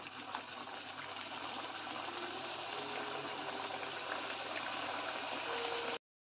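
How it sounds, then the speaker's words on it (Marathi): Fafda, a Gujarati gram-flour snack, sizzles in hot oil with a steady, dense crackling bubble that stays even throughout before cutting off abruptly. "आता हे जे उरलेले आपण ते पण तळून घेऊया."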